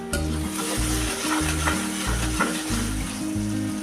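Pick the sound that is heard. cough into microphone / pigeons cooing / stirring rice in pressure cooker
stirring rice in pressure cooker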